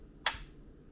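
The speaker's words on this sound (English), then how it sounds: "it sounds like this when you click it in." A single sharp plastic click of a wireless charging station's stand snapping into place, close and crisp, in an otherwise quiet room.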